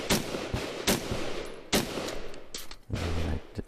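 Carbine shots at an outdoor shooting match, four loud sharp cracks spaced unevenly over a few seconds, each followed by a short echoing decay, no voices.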